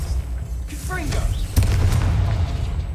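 A Confringo spell explodes in the wizarding video game Hogwarts Legacy with a single sudden, deep boom midway, followed by a rumbling tail, with a voice talking over the action.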